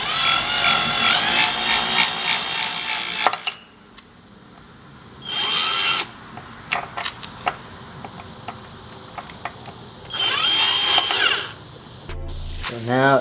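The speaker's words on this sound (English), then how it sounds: "I tried to extract that stud, did not work. Result, broken drill bit." Power drill running in bursts against a stuck stud on a Honda Civic, with three loud whirring runs separated by quieter stretches of clicks and handling noise, close up.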